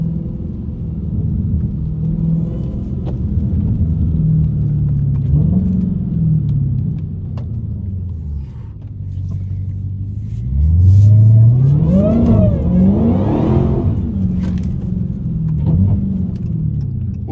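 A Dodge Hellcat's engine rumbles and revs loudly while the car slides through turns, with rising and falling surges and a hard acceleration swell midway, close and sustained without talk.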